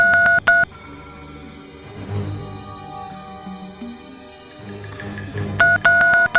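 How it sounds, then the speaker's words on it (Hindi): Telephone keypad tones beep in quick bursts at the start and end, with a soft hum and faint background sounds in between. "मैं उसे फोन लगा के देखती हूँ।"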